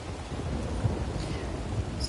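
Steady heavy rain pouring in Red Dead Redemption 2, a dense continuous hiss with low rolling thunder rumbling underneath throughout, with no talk.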